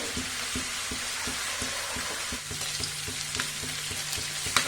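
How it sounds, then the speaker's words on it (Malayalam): Prawns shallow frying in hot oil, a steady dense sizzle with small rhythmic stirring clicks, close and continuous throughout. "നമ്മുടെ ചെമ്മീൻ ചെറുതായി ഒന്ന് ഫ്രൈ ആയി വന്നിട്ടുണ്ട്"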